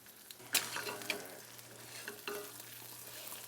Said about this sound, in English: You can have a little bit of sizzle, but you don't want a lot of sizzle.